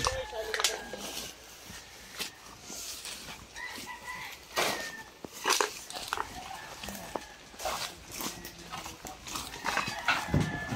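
Chickens cluck and call intermittently at a moderate distance, mixed with scattered outdoor noise and faint voices in the background.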